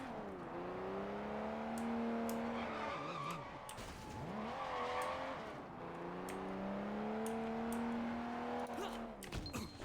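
Cars skid and race in the video game Sleeping Dogs, with tires squealing in long wavering tones over a loud, continuous engine roar that rises and dips, punctuated by sharp clicks and knocks.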